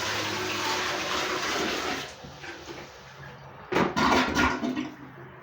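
Steady broadband rush of running water fills the first two seconds, then drops away, followed by a few louder sloshing splashes.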